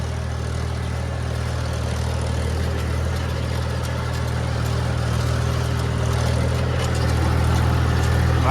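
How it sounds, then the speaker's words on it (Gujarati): Tractor engine running steadily by a large dam reservoir where soil is being dug, a constant low rumbling drone that grows slightly louder toward the end, with no voices. "અહીંથી ટ્રેક્ટર આવે છે"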